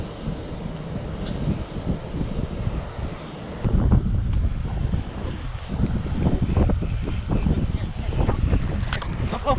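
Steady wind roars and buffets the microphone during a fishing outing, a loud rushing noise that swells and gusts throughout.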